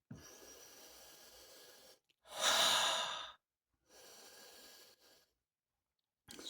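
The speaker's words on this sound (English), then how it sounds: "Let's have a sniff there." Someone sniffing a glass of Sheep Dog peanut butter whiskey: several close, breathy nasal inhalations in separate bursts with short silent gaps, the middle sniff loudest.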